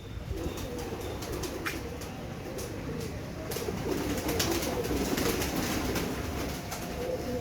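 Royal Teddy breed pigeons with leg rings coo softly in a low, rolling murmur of overlapping calls, with a few faint chirps and rustles scattered throughout.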